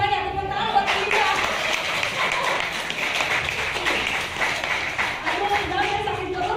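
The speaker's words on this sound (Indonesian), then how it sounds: "tepuk tangan buat Linda" An audience applauds Linda during a ZstarGlobal business presentation session, a dense steady wash of clapping lasting throughout, with a few voices calling out beneath it.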